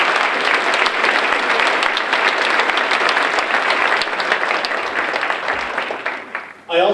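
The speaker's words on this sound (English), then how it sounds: "Please join me in a round of applause and appreciation for these campus donors." Audience at an annual academic recognition program claps for campus donors, a loud, sustained wash of applause from a large crowd that tapers briefly at the end before a voice cuts in.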